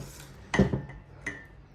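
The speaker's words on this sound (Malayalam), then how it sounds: "കട്ട കൂടാണ്ട് നമുക്ക് മിക്സ് ചെയ്തെടുക്കാം." A spoon scrapes and rubs against a bowl while eggless teacake batter is mixed, two short rasping strokes close up with a clink, in a quiet kitchen.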